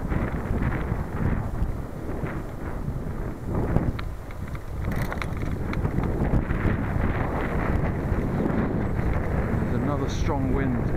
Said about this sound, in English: Strong wind today, thankfully. It's behind me at the moment.